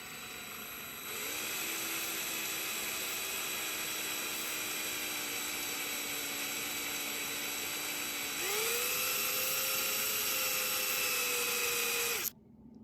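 A high-pitched electric drill whirs steadily for about eleven seconds, drilling slowly into the metal of a Matchbox Dodge crane truck model, its pitch rising partway through, then stops abruptly; close and continuous, no voices.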